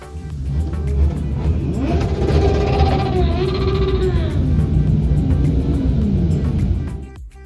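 Motorbikes at a charity Christmas Santa motorbike rally in Marseille, a loud steady rumble of several engines revving and rising in pitch, close by and continuous, with no talk over it.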